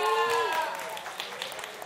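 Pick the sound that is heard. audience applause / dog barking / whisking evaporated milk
audience applause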